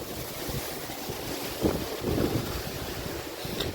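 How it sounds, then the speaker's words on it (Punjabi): Strong wind roars across the microphone outdoors near a house rooftop with a running motor, a steady dense rush with gusty swells and no voices. "ਹਵਾ ਹੀ ਬਹੁਤ ਤੇਜ਼ ਚੱਲ ਰਹੀ ਹੈ"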